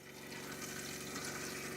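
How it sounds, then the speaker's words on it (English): Water pours steadily into a Suburban 6-gallon RV water heater, a faint continuous rushing hiss with a pump-like hum beneath, unbroken for the short stretch. "Refill the water heater."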